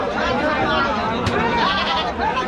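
Goats bleating at the Baneshwar goat market in Rajshahi, with wavering bleats rising over a busy crowd of people talking and haggling nearby.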